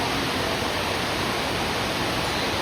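Heavy rain pours steadily during a flooding downpour, a dense, even hiss that stays loud and constant with no talk over it.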